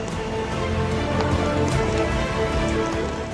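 Heavy monsoon rain pours down steadily, a dense, loud hiss of countless drops hitting surfaces, constant and unbroken throughout with no voices.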